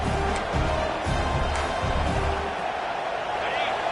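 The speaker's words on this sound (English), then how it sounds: "This crowd busting the decibel meter and trying to will a fourth down stop." A college football stadium crowd roars for a fourth-down stop during an NCAA game, a dense sustained wall of noise with a few sharp thuds early on, while a commentator's voice runs over it.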